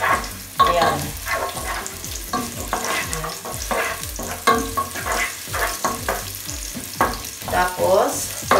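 Onions sizzle in hot oil in a pan after browned garlic, cooking for Bisaya-style ginataang munggo, with a steady fry and repeated scraping, clacking stirs close by.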